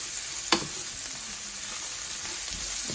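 Potatoes and eggplant sautéing Sri Lankan style in oil left from frying eggs, a steady, close sizzling hiss with an occasional faint scrape or knock, no talking.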